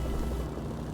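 Helicopter in the Jagged Alliance game setting down to land, a brief low rumbling rotor drone, steady and fairly faint with no voices.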